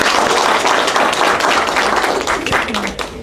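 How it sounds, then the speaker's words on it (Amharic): A live audience breaks into warm, sustained applause at a journal launch event, dense clapping filling the space throughout and easing off slightly near the end. "አንድ ጊዜ ሞቅ ያለ ጭብጨባ ላይ"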